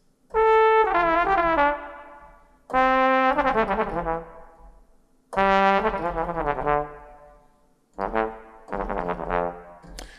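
A sampled trombone from the 8Dio Studio Fire library plays rapid legato lines ending in short staccato notes, four bright, brassy phrases of falling and rising pitches with clear pauses between them.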